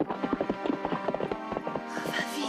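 A black stallion galloping fast in an animated film, a quick rhythmic clip-clop of hooves up close with a brief whinny-like sound and a rushing swell at the end.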